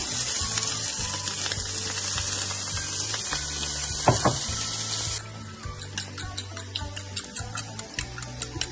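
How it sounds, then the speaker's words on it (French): Finely cut carrots and paprika fry in sunflower oil with a loud, bright sizzle that fades partway through. A steady ticking pulse and a few clinks run underneath, with no speech. "Et là-dedans, nous allons faire revenir nos carottes et nos paprikas coupés finement."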